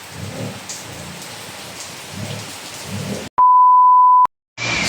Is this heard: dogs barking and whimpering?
no